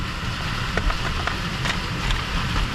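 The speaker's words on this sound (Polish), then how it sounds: "Ale pada, masakra." Steady rain falls outdoors on surfaces, a dense continuous hiss with scattered brighter drips and taps, loud and close with no voices.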